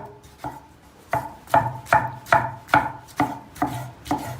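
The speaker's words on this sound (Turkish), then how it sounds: "Hemen yarın da domates doğrayacağım." Steady knife chops on tomatoes on a cutting board, about ten sharp knocks at an even pace, close up with no talking.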